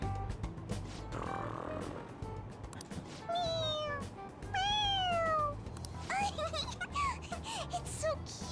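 A cartoon cat in Persona 5 Royal gives several rising and falling meows, close and clear, over a steady game background with light chatter around them.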